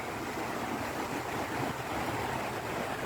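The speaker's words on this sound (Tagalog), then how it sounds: "Maririnig niyo yung napakalakas na agos ng ilog." A strong river current rushing past a farm at night, a continuous broadband wash of flowing water with no breaks, moderately close and steady throughout, no talking over it.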